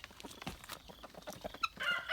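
Guinea fowl call in a flock outdoors, a jumble of quiet, rapid clucks and harsh chattering notes overlapping at a distance, faint throughout, with no talking.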